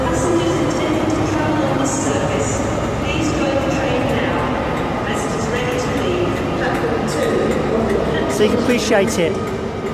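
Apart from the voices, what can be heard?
Class 43 train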